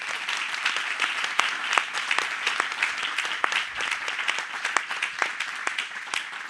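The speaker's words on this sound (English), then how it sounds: "give one huge round of applause to all of the panelists who are still here" A conference audience gives a steady round of applause for keynote panelists at a design forum in New York, dense even clapping held at moderate level throughout.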